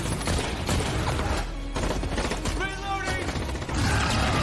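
Rapid bursts of gunfire crackle in a dense, loud war-film battle scene, mixed with clattering mechanical noise and rumbling.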